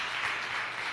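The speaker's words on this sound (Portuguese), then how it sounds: "Você pode aplaudir a Jesus?" Steady, dense applause from a church congregation fills the moment, continuous and fairly loud, with no voices standing out.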